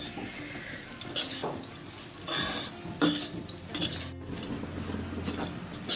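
Cooked rice is stirred and folded with powdered curry leaves. A spoon scrapes and clinks against the vessel in a steady, close, busy rhythm with a faint background hiss.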